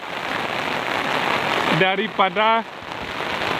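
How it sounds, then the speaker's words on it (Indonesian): Heavy rain pours steadily in a village in Solok Regency, West Sumatra, a dense close hiss of drops on surfaces throughout, with someone briefly speaking over it near the end. "Mungkin kalau hujan seperti ini"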